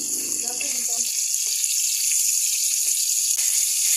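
Chicken pieces frying for chicken gisado give a steady, close sizzling hiss throughout, with a brief stretch of talk at the start.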